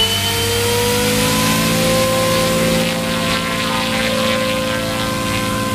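A helicopter that does not sound quite real flies nearby, its engine and rotor giving a continuous loud whine and drone with steady tonal layers throughout.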